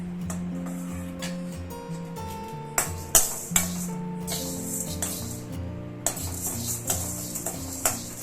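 Idli podi ingredients being roasted in a pan on a normal flame and stirred steadily, with soft scraping and light metallic clinks and taps scattered through the clip, close and fairly quiet.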